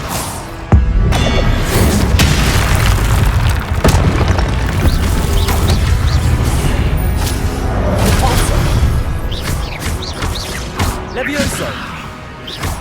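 A fire spell cast in Hogwarts Legacy on PS5 gives a loud, sustained burst of booming, crackling game effects, with several heavy impacts and whooshes layered over a dense background.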